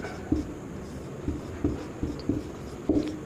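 Pen or chalk strokes writing a word during a Sanskrit lesson, a series of short scratchy taps and scrapes spaced unevenly over a few seconds, moderately close with faint room noise.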